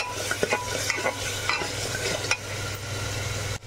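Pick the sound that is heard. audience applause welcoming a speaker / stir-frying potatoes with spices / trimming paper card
stir-frying potatoes with spices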